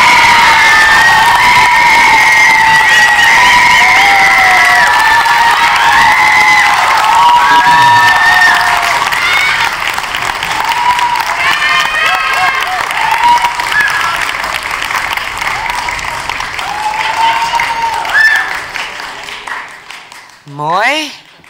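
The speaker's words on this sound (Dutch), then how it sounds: "De tweede applaus is voor André." Loud, sustained applause and cheering from an audience at a Dutch writers' festival evening, with whoops and shouts over dense clapping that gradually thins out toward the end.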